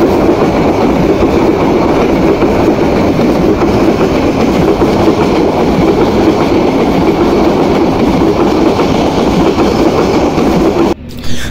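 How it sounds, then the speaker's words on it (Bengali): A passenger train on the Dhaka to Nilphamari route gets underway with a loud, continuous rumble and rhythmic rail clatter close by, steady throughout and briefly cutting out at the end. "শেষ পর্যন্ত কিছুক্ষণ অপেক্ষা করার পরে আমাদের ট্রেনটি যাত্রা শুরু করলো"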